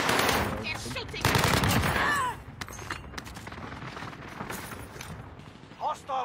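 Automatic gunfire in a video game squad battle, bursts of rapid shots loudest in the opening seconds, then fainter scattered firing beneath game radio chatter and voices.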